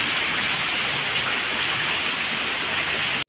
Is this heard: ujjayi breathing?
no